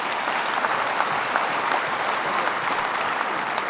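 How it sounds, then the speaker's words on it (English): Delegates at an Olympic committees' general assembly in Seoul give sustained, even applause, a dense roomful of clapping with a few sharper claps standing out. "I think the applause says it all."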